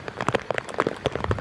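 Steady patter of heavy rain by the sea in Albay, with scattered distinct drops striking a surface, close and fairly busy.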